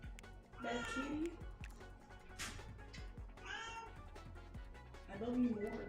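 Cat meowing indoors, two or three long wavering meows, near and clear, with a person speaking softly in the gaps.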